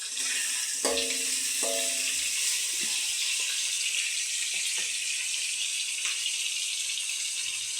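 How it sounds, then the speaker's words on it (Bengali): Onion frying lightly in a pan for egg chilli, a steady hiss and sizzle with a few clinks of a utensil against the pan, no talk. "আর পেঁয়াজটা একটু হালকা ভেজে নেব"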